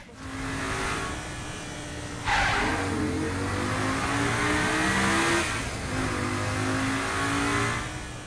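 A car accelerating on a road: engine tones climb through gear changes, rising and easing off, with a loud close-up burst of revving midway, continuous and alone without talk.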